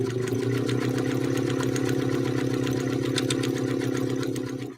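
An Elna Lotus SP sewing machine stitching polyester fabric hums with a fast, steady mechanical whir and rapid needle clatter, close and constant for several seconds before stopping abruptly.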